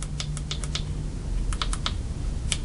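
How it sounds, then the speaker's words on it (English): Push buttons on a Spypoint Tiny-W trail camera are pressed in quick clusters of sharp, close plastic clicks, with short pauses between bursts and no talking. "Features really easy push buttons that even make a click so you can hear them."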